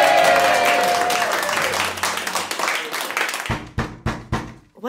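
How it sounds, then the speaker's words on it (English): An audience applauds loudly for a pitched big idea, dense clapping that fades into a few scattered, distinct claps and sparse taps near the end. "A round of applause, please, for Beck's big idea."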